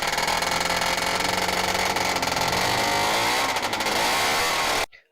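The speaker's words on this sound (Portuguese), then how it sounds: "sempre que o motor 2 tempos alcançava as rotações mais altas" A two-stroke engine screams at high rpm, a loud, continuous buzzing roar held steady for nearly five seconds before cutting off abruptly into silence.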